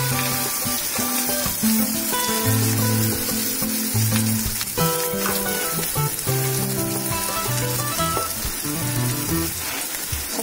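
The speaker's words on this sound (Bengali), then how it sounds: "তেলটা গরম হয়ে গেছে, এখন আলুটা দিয়ে দেবো।" Potatoes dropped into hot oil for chicken spring roll filling give a steady, hissing sizzle that runs throughout, heard beneath prominent background music with clear melodic notes.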